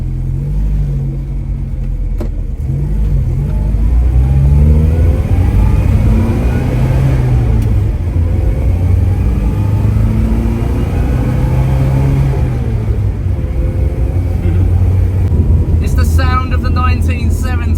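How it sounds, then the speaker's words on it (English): A 1972 Morris Mini 850 with a raspy four-cylinder engine and four-speed manual gearbox drives along the road, its steady engine hum rising and falling with gear changes under continuous close narration. "A raspy little four-cylinder engine and a 4-speed manual gearbox."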